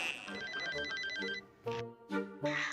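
A telephone ringtone chimes in a fast repeating electronic pattern for about a second and a half, then stops as voices start talking in a Sundanese comedy skit.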